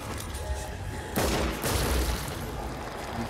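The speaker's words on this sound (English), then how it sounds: "Man, this pistol can't hit a thing" Pistol shots in the zombie shooter Sniper Elite: Nazi Zombie Army: a loud burst of gunfire around a second in, over steady game background noise, with no talking.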